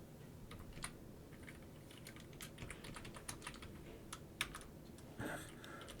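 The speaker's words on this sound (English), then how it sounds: "That was my keyboard" Computer keyboard keys clatter in quick irregular taps over a quiet room hum, fairly soft and close, with no talking.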